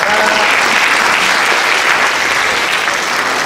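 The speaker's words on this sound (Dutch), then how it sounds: "Ja, dat is best een applaus weer." A crowd applauds at a tribute evening for Dré Geraeds, with thick, continuous clapping at a steady level throughout.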